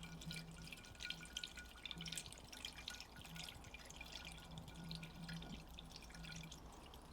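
Water trickles and drips steadily into the cooling system of a Metro 6R4 rally car with a Subaru WRX engine, a faint, continuous splashing with soft repeated drops and no talking.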